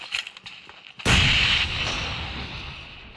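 Bombs and gunfire in a video game fight, a sharp loud blast followed by a sustained rumbling roar, after some faint scattered thuds beforehand.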